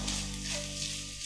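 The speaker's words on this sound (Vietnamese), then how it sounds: "Mình xào cho thịt này nó hơi vàng cháy cháy xíu nha các bạn" Pork stir-fried with garlic and shallots sizzles steadily in a pan, a loud, dense, continuous frying hiss heard up close with no talking.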